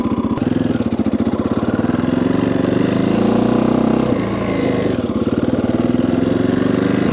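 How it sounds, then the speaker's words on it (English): A KTM EXC 530 dirt bike engine idles while warming up, a loud, close, steady single-cylinder thump with a brief dip in the middle and no talking. "We're gonna let it idle, warm up just for a minute"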